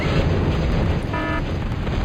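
Rocket fire pounding a wall in a real-time strategy battle, with a dense, continuous roar of blasts and rumble, loud throughout.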